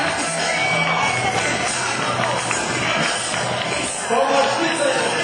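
Waterfront crowd at the 2007 America's Cup in Valencia, cheering and whooping as the winning yacht heads back to its base; a steady, dense wash of distant crowd noise with shouts rising near the end.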